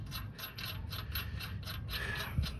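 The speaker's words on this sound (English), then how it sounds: "I'm gonna tighten this up" A ratchet wrench tightens a bolt on the rear shock of a Toyota Sequoia, clicking in a quick, even run of pawl ticks close by and fairly quiet, with no voices.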